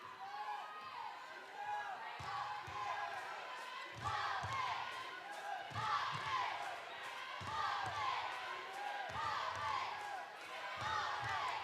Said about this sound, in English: The crowd is very much into it, and this stadium is pretty packed full.